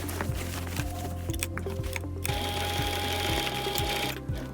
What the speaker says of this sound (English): I'm going to turn around and go right back over the stitching I just did